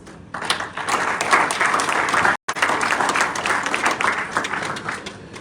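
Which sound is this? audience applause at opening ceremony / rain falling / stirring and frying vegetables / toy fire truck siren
audience applause at opening ceremony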